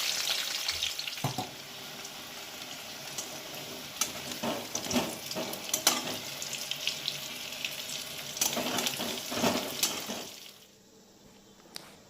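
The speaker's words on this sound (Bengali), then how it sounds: "সেই তেলেই আলুর টুকরোগুলো ব্রাউন করে ভেজে তুলে নিতে হবে" Potato pieces frying in oil until brown for mutton biryani, a steady sizzle with clatter of stirring and a few sharp scrapes, continuous close-up until it drops away near the end.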